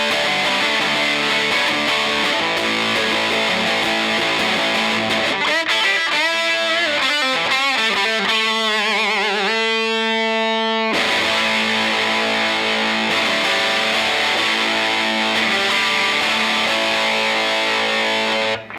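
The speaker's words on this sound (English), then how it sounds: "So let's hear some distorted tones. I'm just gonna run it straight into a rat pedal." Heavily distorted electric guitar through a Rat pedal on the bridge humbucker of an Enya Inspire smart guitar, loud and saturated, strummed chords with a sustained ringing passage in the middle before the crunchy riffing resumes.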